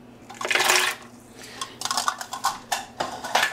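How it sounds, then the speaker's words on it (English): Cashews poured into a Versa blender jar, a quick clattering rush of nuts followed by scattered rattles and taps as the last pieces fall, close and fairly loud, with no talk. "Now I'm going to put my 1/4 cup of cashews."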